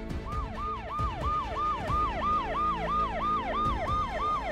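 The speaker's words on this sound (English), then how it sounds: "Here comes the ambulance." Ambulance siren in the Minecraft video game wailing loud and steady, a fast repeating rise-and-fall cycle sounding continuously with no talking.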